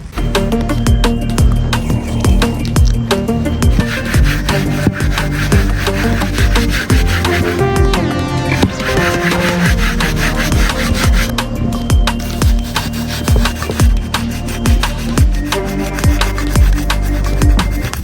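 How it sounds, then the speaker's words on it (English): Steady, loud, continuous rubbing and scouring as an old exhaust downpipe is sanded and scrubbed with a fine Scotch pad, a harsh gritty friction that keeps going for the whole stretch, close up with no speech. "Obviously I'm going to sand and Scotch pad it down."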